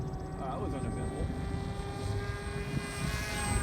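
Propeller buzz of a Kopaqi 950mm FPV delta wing model plane in flight, a steady whirring drone at moderate distance with a faint tonal whine, under a voice talking.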